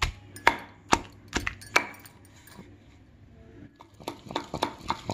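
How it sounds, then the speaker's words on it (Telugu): Peeled garlic cloves being ground for tomato peanut chutney: sharp, irregular pounding strikes close by, with a short lull in the middle before a fresh burst of knocks. "పొట్టు తీసి వేసుకున్నాక మెత్తగా ఇవి కూడా నూరుకోవాలి."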